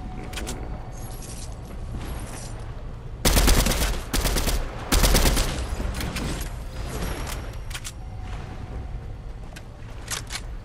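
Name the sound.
gunfire in video game Fortnite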